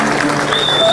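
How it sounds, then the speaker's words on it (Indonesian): Audience clapping at a university panel event, a brief, steady burst of applause with a faint voice underneath. "tepuk tangan dulu dong, semangat ya"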